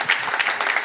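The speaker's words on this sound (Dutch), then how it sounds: "Applaus voor beide heren en de dames." Brief audience applause at a public presentation on a nature and landscape plan in Sittard-Geleen, a short, dense, even wash of many clapping hands with no talk.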